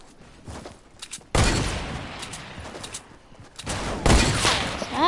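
Gunfire in a sniper shooting video game, with sharp loud shot bursts and echoing reports that come in two heavy volleys over a quieter rumble of distant firing.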